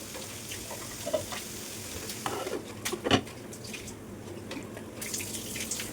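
Onions cook with a little salt in a pan. A soft, steady sizzle and hiss carries through, broken by a few brief stirring scrapes and knocks near the middle, with no voices.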